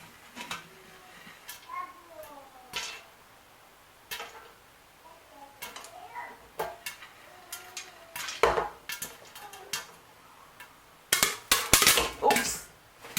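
Popcorn popping in a pot swirled on a stovetop: sparse sharp pops and faint ticks at first, building to dense, loud rattling bursts of kernels shaken against the metal near the end.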